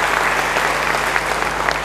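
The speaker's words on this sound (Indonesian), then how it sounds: "Yang mau beri tepuk tangan yang baik bagi dia." Steady, dense applause from a crowd, loud and continuous throughout with no talking.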